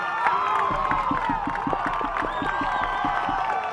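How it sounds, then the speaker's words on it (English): At a 2008 high school baseball quarterfinal between Cartersville and Columbus, the crowd cheers as a run scores, with steady clapping and whoops under a broad roar of voices. "the run will come home from second, making it a 4-0 game, and you hear the crowd right there"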